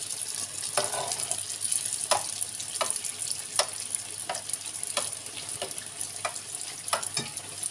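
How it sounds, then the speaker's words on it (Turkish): Steady crackling sizzle of puffed dough balls frying in hot oil, with occasional sharper pops and spits throughout. "altını üstünü güzel bir şekilde kızarttıktan sonra"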